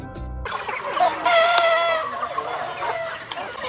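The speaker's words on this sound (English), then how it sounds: "keep their flocks clucking contentedly" Hens cluck and chatter in a close group on a Vietnamese egg farm, with a few sharper squawks standing out over a soft, busy farmyard background.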